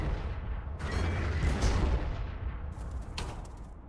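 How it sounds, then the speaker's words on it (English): Units fire on grot tanks in the Warhammer 40,000: Armageddon Untold Battles strategy game, with a dense rumble of overlapping gunfire and booms, loud and continuous, and bright crackling bursts near the end. "let's have you shoot into the grot tanks."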